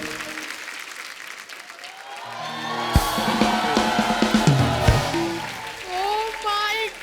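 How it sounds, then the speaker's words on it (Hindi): An audience bursts into loud, sustained applause during a comedy show, a dense crowd of clapping that swells and holds, with voices and cheering mixed in. "जोरदार ताली"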